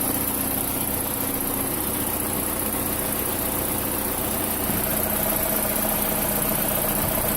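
A freshly installed replacement engine idles while warming up, a steady low rumble with a faint knocking texture that stays even and moderately close throughout.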